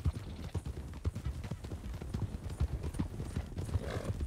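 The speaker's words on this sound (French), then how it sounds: "Un cheval à l'entrée." Horse hooves clip-clop at an entrance in the video game Red Dead Redemption, a steady close rhythm of hoofbeats at a moderate level, with faint voices in the background.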